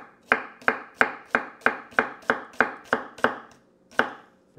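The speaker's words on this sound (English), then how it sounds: "We want to cut this relatively thin." A knife slices a red onion thinly on a cutting board for a watermelon salad, producing about a dozen crisp, evenly spaced chops close up, with a short pause before the last stroke.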